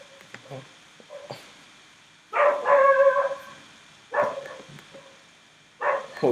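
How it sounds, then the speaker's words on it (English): A dog barks in short bursts several times at moderate distance, with quiet pauses between the barks and a few faint clicks before them. "The dog is even barking now."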